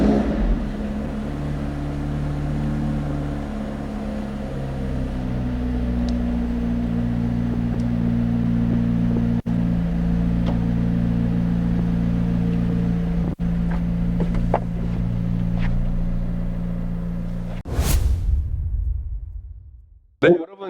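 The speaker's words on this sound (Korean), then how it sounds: "엔진 스타트." Gulf-livery, full-carbon-body McLaren 765LT engine cranks and settles into a steady, deep idle rumble, held without throttle blips, before cutting off near the end.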